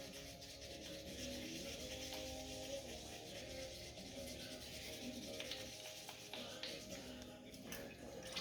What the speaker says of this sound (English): using that brash wire brush in pretty much like a circular motion